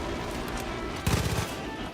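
Gunfire from the video game Far Cry 5 rips out as a short rapid burst of shots midway through, over a steady background of game sound.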